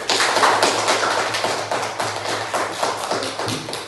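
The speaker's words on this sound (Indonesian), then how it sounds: "kita aplaus dulu kelompok 1" A classroom group claps after a presentation, a dense, steady patter of many hands close by that slowly thins toward the end, with no talking over it.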